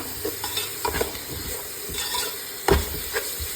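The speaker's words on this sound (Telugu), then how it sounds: "ఆయిల్లో ఇట్లా 2 minutes ఫ్రై అయిన తర్వాత" Green chicken biryani masala paste fries in hot oil in a pot, giving a steady close sizzle with stirring scrapes and a sharp clank of the spoon against the pan, with no talk.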